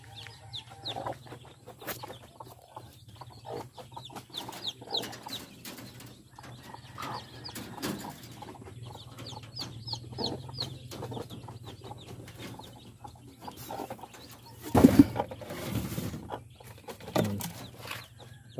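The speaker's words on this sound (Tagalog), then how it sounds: "Update ko lang kayo sa alaga ko manok." Backyard chickens, hens among fighting-cock stock, cluck and murmur on and off at close range over a low steady hum, with a sharper burst of noise near the end.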